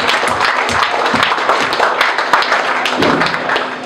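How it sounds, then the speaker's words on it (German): Live concert crowd at a club show clapping steadily between songs, a dense wash of hand claps with sharper individual claps standing out, no clear speech over it. "Applaus, los."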